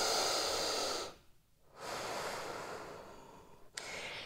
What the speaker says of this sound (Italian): Prendo una bella respirazione qua.